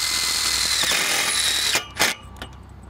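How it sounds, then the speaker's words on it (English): Power drill driving screws through timber cleats into fence posts for a Hebel PowerFence, a close steady whine that stops abruptly, followed by a few short bursts and clicks. "we just screw off each cleat either side of the post"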